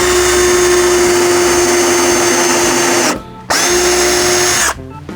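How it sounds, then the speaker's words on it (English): A power drill boring screw holes into a wooden railroad layout table, with a loud, steady high whine that cuts off briefly twice between holes, close and alone. "with the holes drilled"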